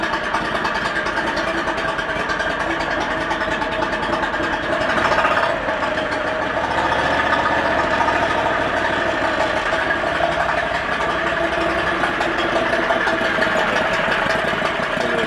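A 670 cc four-seat dune buggy with a customized exhaust idles steadily and loudly while warming up, a rough constant rumble with a slight swell in the middle.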